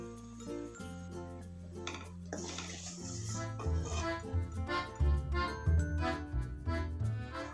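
A metal cooking pan clatters and clinks while fried food is moved into another vessel in a home kitchen, with repeated scraping and knocking of metal and glass against a background hum.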